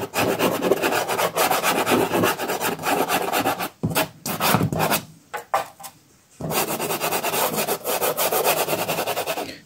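Dry, raspy rubbing and scraping strokes of hard dry pastels on paper, pressed with varying force, continuous and close, with a brief pause of lighter strokes midway before the steady scratching resumes.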